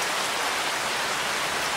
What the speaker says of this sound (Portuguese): a chuva tava tão forte que não dava nem pra escutar direito o Pedro